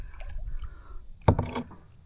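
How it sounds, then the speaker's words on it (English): A kayak paddle dips into a river among mangrove trees with a single close splash and swirl, over a constant high insect buzz and faint low wind. "I'm paddling one-handed now so I can hold the camera."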